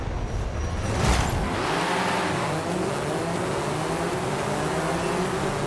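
A McLaren sports car engine in a racing video game roars and accelerates in a rising, revving whine that sweeps upward and holds, loud and close throughout.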